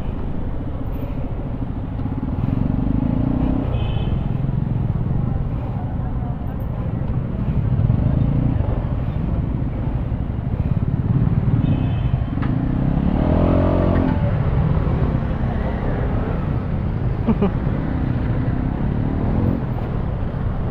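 An Aprilia SR 200 GT scooter engine on a quick test ride at the Makina Moto Tiangge 2023 show, a continuous low motor drone that swells with throttle, heard under people talking nearby.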